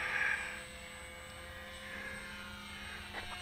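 A Ju 52 model airplane makes a slow, low pass without flaps, its engine drone steady and moderately loud throughout the short stretch with no one speaking.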